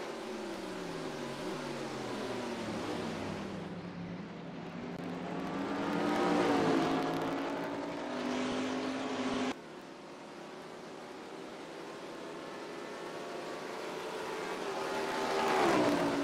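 Race cars lap the Toronto street circuit in a NASCAR Racing 2003 Season simulation, engines droning and rising in pitch as they accelerate, several cars passing in sustained sweeps, loud and continuous with no talk.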